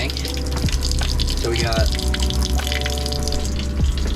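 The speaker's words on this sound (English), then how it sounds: "all of our faucets open, and we're gonna completely drain the water" Water runs from open faucets aboard a sailboat as the freshwater tank is purged and drained, a steady wash with drips and clunks in the background while a person talks over it.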